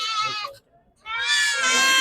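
A young goat kid bleats loudly and close at a Saturday goat market in Ettayapuram, giving one short cry, a brief pause, then a longer, wavering bleat.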